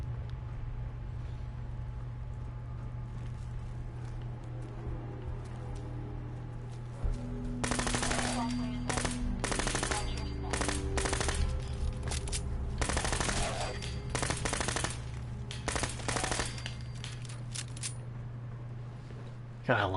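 Rapid bursts of automatic gunfire from a gun in Fallout 4 crackle in clusters over a steady background hum, loud and close, pausing briefly between volleys.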